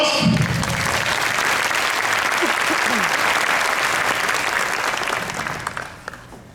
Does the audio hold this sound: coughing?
no